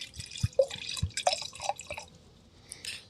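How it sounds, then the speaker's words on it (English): Wine poured quietly into a glass, with a few soft drips and splashes of liquid, then a brief trickle near the end, all close and alone without talk. "That's a quiet, academic, Morgan Twain Peterson style pour."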